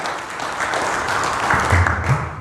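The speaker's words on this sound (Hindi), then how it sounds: "अच्छा लगे तो तालियों के साथ में स्वागत करें दयानंद जी का" An audience applauding to welcome a speaker, a dense wash of many hands clapping at once, steady and moderately loud for the whole stretch.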